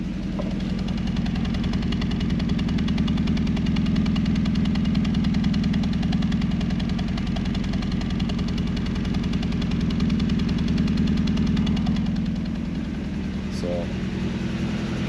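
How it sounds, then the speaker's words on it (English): A car engine idles with a steady, throaty exhaust rumble close by, running continuously while someone speaks over it. "the exhaust sounds kind of nice"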